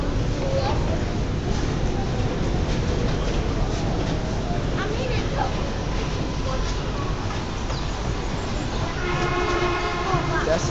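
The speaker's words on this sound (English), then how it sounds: "This train is crowded." An R160A J subway train at Broadway Junction rumbles loudly and continuously with steady rolling noise, muffled voices of a crowded car beneath, and a brief tonal squeal near the end.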